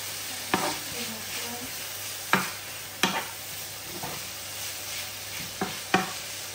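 Bacon sizzles with peppers and vegetables in a pan for a meat quiche, a steady frying hiss broken by several sharp clacks of a stirring utensil against the pan.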